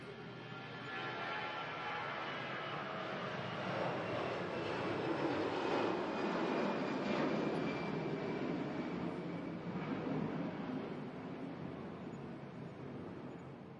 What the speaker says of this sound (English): the takeoff is always the scary part for me